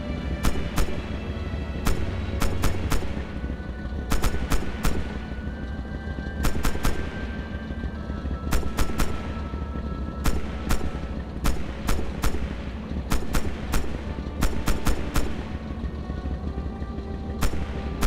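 A tank's machine gun fires in Red Orchestra 2 during tank training, short bursts and single cracks repeating every second or two over a constant low engine rumble.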